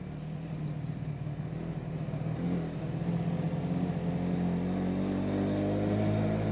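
A motorcycle engine pulls steadily on a mountain pass road in Pakistan, a continuous low drone that builds slightly in loudness as the rider throttles on, with no talk over it.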